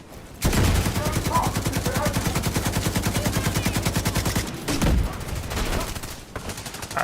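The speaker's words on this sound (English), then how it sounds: "Going full auto." Sustained full-auto gunfire from a rifle in The Division 2, a rapid, loud, even stream of shots lasting about four seconds, then a short pause and a couple of scattered bursts.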